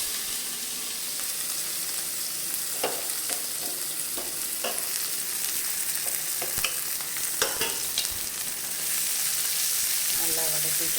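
Onion, green chili and curry leaves sautéing in a hot oiled pan, a steady bright sizzle with repeated scraping stirs and clinks throughout, close and fairly loud.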